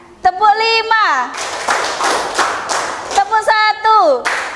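Schoolchildren in an Indonesian classroom clap in bursts during a counting clap game, sharp group claps between children's sung and spoken call-outs, close and lively.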